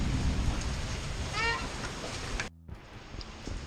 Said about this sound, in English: here we are in the rain